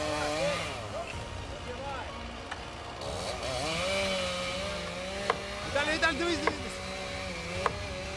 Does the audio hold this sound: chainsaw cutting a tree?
yes